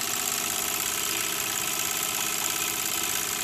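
A 1926 Bowman 234 live steam model locomotive runs with a steady, even mechanical chuffing and hiss, close and continuous throughout, with no voices.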